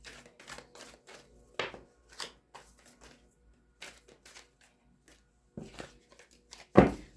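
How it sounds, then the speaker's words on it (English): A deck of tarot cards being shuffled by hand up close, giving a run of quick, soft papery riffles and slaps in irregular bursts, ending in one louder snap, with no talking. "Give you one good shuffle and we will begin your reading."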